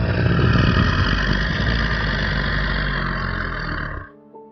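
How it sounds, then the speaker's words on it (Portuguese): A deep, rough animal growl rumbles behind a door as a story sound effect, one long sustained roar that fades off near the end, loud and close with no talking. "Eu escutei um barulho, meio que um rosnado, ou um fungado, do outro lado da porta."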